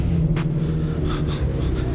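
A truck rolls past close by at a rainy outdoor car meet, a steady low rumble with engine drone throughout, no talking.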